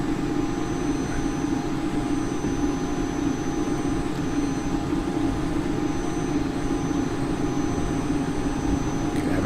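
Cessna Citation CJ4X jet engines in the P3D flight simulator, a steady loud whining roar that holds constant as the throttles are pushed up for takeoff.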